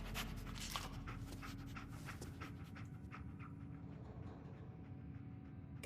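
Dogmeat, the dog companion in the video game Fallout 4, pants in quick rhythmic bursts close by, loudest early and thinning toward the end, with no talking.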